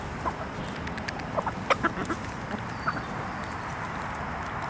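Chickens cluck in short, scattered bursts over a low background hiss, several soft calls close together in the middle of the stretch, with no talking.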